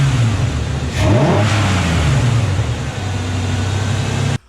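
A 4.0L V6 in a Ford Ranger fitted with a cone air filter revs up sharply, with a throaty intake note rising and falling, then settles back to a steady idle before cutting off abruptly.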